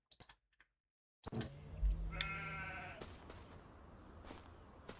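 Sheep on a farm bleat nearby in a short, wavering cry after a brief silence broken by a few clicks, followed by a continuing low ambient hiss and scattered knocks.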